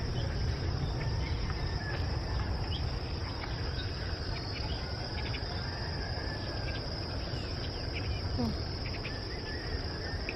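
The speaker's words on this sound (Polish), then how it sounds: "Cykady." A dense, steady cicada drone rises high and continuous over the low rumble of ocean surf near a river at Barra de Navidad, Oaxaca, Mexico, with no break for the whole stretch.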